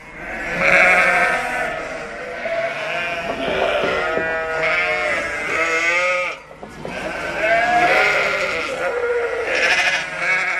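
A flock of sheep and ewes bleats continuously nearby on a French livestock farm, overlapping wavering calls rising and falling, with a brief pause midway before the chorus resumes.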